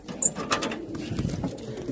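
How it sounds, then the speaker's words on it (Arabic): Pigeons in a loft coo softly and close by, with short throaty calls over a quiet background. "خلي الحمام تحفظ حالها تتريح تتفرفش"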